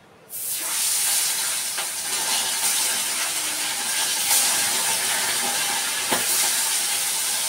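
Salt-coated bata fish drops into hot oil in a pan, setting off a sudden loud sizzle. The sizzle holds as a steady, dense hiss with a few small pops.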